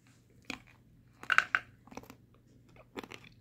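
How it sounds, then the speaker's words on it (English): Close, crisp crunching of smoked almonds from an MRE being chewed, several sharp bites in an irregular rhythm against a quiet background. "Crunchy, which you probably can hear"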